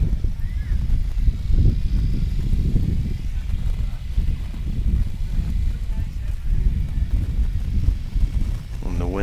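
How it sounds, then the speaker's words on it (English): Gusty wind buffets the microphone at an outdoor archery range during a tournament, a low rumbling roar that swells and eases continuously at moderate loudness. "the wind seems to pick up a little bit more again"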